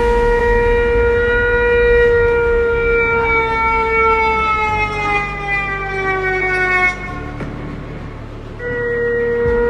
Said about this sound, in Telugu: పాకిస్తాన్లో సైరన్స్ సుప్రభాతంలో మోగుతున్నాయి.